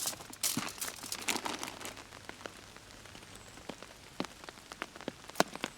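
Rain falls outdoors in a constant patter, with sharp individual drops and some crinkly rustling as it strikes army surplus gear, at moderate loudness.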